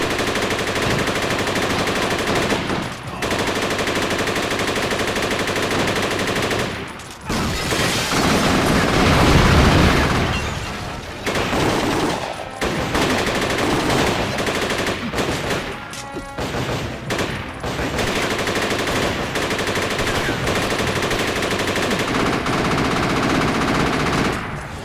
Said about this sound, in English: now the enemies also have automatic weapons and they will tear you to shreds